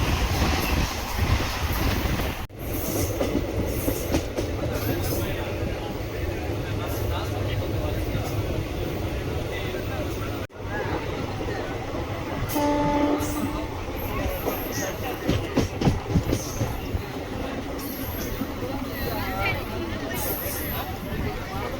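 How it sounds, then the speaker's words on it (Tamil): A Tiruvallur to Chennai Central suburban train rumbles steadily along the rails with a constant rolling roar, a murmur of passenger chatter inside the carriage throughout. "Tiruvallur to Chennai central suburban train."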